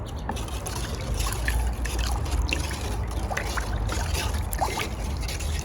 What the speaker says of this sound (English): I'm just going to stir it up with this wooden spoon, dissolve the